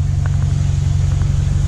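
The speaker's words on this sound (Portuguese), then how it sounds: "Então o ronco tá maneiro desse carro." A Stage 2 remapped Mercedes A35 AMG with a downpipe idles nearby, its engine a deep, steady, loud rumble with a slightly pulsing low throb and no talking.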